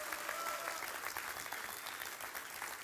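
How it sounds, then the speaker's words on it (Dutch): Applause from a congregation at a live Dutch healing service, a steady dense wash of many hands clapping that fills the space at moderate distance. "Zullen we God een heel groot applaus geven?"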